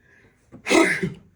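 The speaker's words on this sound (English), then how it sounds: "That just snuck up on me. I had to sneeze." A single sharp sneeze, close and loud, with a breathy intake just before the burst.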